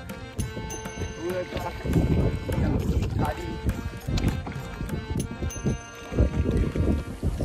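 People talk while a small wooden rowing boat moves on a sea creek, with splashing and knocking sounds and some wind buffeting the microphone.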